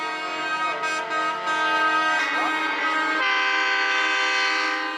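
Truck horn on a street in Antofagasta, Chile, blaring a loud, sustained, train-like chord that shifts pitch midway, near and dominant, with traffic passing beneath.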